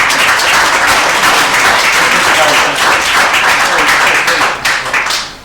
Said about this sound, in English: can I also thank the magnificent young Irish dancers here as well. Give them a round of applause.